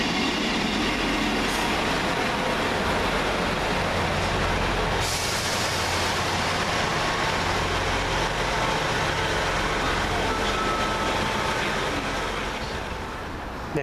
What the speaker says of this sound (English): The turn of 158887 with the 1527 Southwest train service from Romsey to Salisbury via Southampton Central.